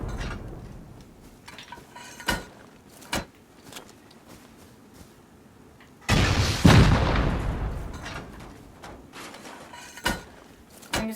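Rockets slam into base walls during a raid in a survival shooter game, with scattered sharp impacts early, then one loud, long blast rolling out at mid-clip, followed by a few more distant cracks.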